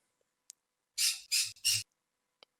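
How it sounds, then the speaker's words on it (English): A pet bird squawks loudly indoors in three harsh, close bursts of about a quarter second each, with faint chirps before and after and no talking. "And my bird's freaking out."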